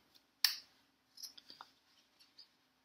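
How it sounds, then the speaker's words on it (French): A sharp scissor snip up close cutting sewn fabric corners, followed by a few quieter cutting clicks and rustles in an otherwise quiet room. "je prends mes ciseaux et je coupe les coins"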